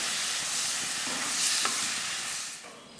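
Vinegar poured and stirred into a Kerala-style beetroot pickle mixture in a pan, giving a steady hissing sizzle with a faint scrape, close and continuous, fading near the end.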